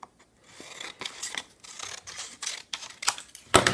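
Paper being cut with scissors while trimming the top of a stamp template, a series of close, crisp snips and crunches growing louder toward the end, with no talking.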